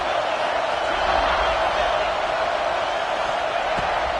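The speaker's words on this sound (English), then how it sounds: "This crowd ready to make its presence known." Stadium crowd in a college football video game, a dense, steady roar of many voices filling the air at constant loudness, with no single shouts standing out.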